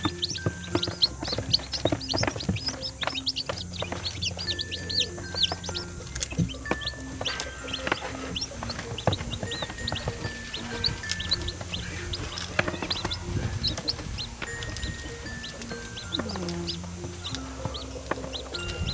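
Newly hatched chicks from a DIY backyard incubator peep in repeated high, thin chirps, several birds calling over one another close by, with a few lower clucks and scattered handling noise.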